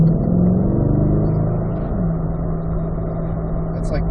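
A car accelerates hard from a left turn, its engine droning loud and steady from inside the cabin as the revs climb and shift.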